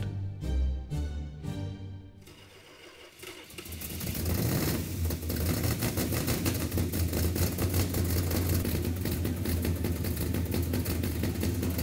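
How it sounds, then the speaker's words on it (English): A Hemi engine on an engine run stand fires after a few cranks and settles into a loud, lumpy, rapid idle that carries on steadily. "fired it up on the engine run stand"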